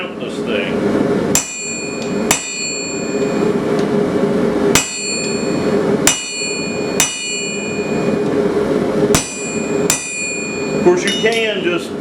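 Round punch struck with a hammer into forged steel, setting mounting-hole marks: about nine sharp, ringing metallic blows at irregular intervals over a steady background hum, with a brief rattle near the end.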